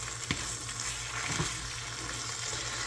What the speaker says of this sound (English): you want to stir that all together